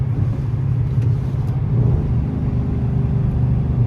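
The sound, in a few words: car engine revving during launch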